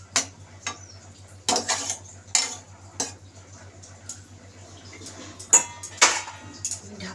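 Hilsa fish is stirred in a pan over low gas for a steamed hilsa dish: intermittent metallic scrapes and clinks of a utensil against the pan, close and sharp, with quiet gaps between strokes and no voices.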